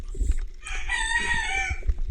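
A rooster crows once, loud and close, a long rising then falling call.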